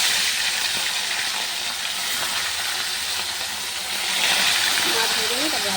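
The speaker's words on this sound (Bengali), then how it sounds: "তেল গরম হয়ে গেছে, মাছটাকে ভেজে নিই।" Bhola fish frying in hot oil, a steady broadband sizzle and hiss that holds throughout at moderate level, swelling slightly near the end.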